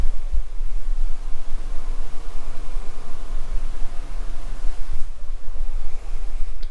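Wind blowing hard at the Lummi shore, a loud, rough, continuous rush with gusty buffeting against the microphone and a low rumble, no voices.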